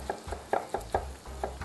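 A steak fries in a pan with a steady low sizzle, broken by rhythmic scraping knocks of a utensil moving it about, close and moderately loud, with no talking.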